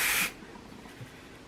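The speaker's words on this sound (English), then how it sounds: "It's the Platinum Dry Texture Spray." Kenra Platinum Dry Texture Spray hisses from an aerosol can onto hair in one short, close burst, followed by quiet room tone.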